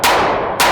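A single loud, sharp Honor Guard pistol shot fired one-handed, with a fast crack that decays into ringing reverb and a second blast starting just after.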